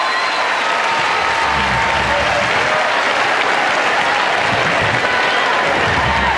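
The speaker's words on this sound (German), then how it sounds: "Interessant, dass das Publikum hier eigentlich den stärksten Applaus zeigt" Loud, sustained applause from the tennis crowd at the WTA Charleston 2010 final, a thick continuous roar of clapping with some crowd noise underneath, steady throughout.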